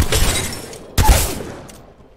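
Mastiff shotgun firing in the Apex Legends video game: two loud, close blasts about a second apart, each a sharp boom with a short rattling decay, with no voices.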